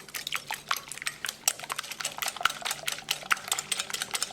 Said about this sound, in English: With the help of whisk, we're going to beat it well.